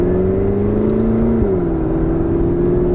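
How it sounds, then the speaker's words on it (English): McLaren 570S with sports exhaust cruising in first gear, a steady close engine drone with a small shift in pitch midway, continuous and alone without talk. "This has got the sports exhaust, as you may have seen or heard before."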